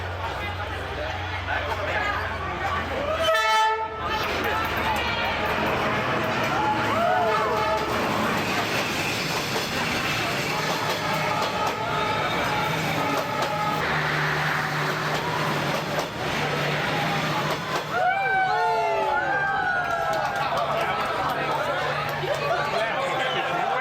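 A train rumbles past close by with clanking wagons and a sharp horn blast, while people talk over the continuous roar.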